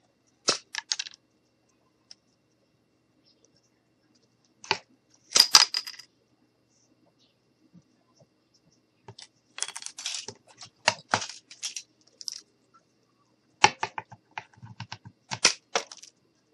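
Popsicle sticks being cut for a craft wagon: short sharp snips and cracks in scattered bursts, close and crisp against a quiet background, with several quick cuts clustered together.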